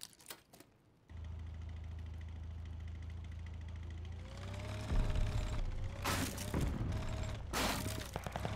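A Goliath remote drone in Call of Duty: Vanguard runs its engine with a steady low mechanical drone, joined by louder rattling bursts and crashes partway through, fairly faint overall with no speech.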